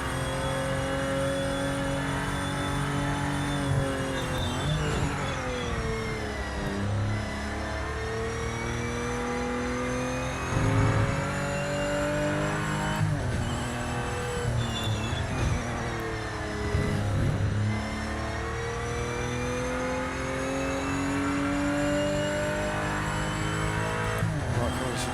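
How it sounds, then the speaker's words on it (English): An old Porsche race car engine in the racing game Project Motor Racing, a loud sustained drone that rises and falls through gear changes and revs for the whole stretch, with tire squeal mixed in. "This has got a great old Porsche sound to it as well."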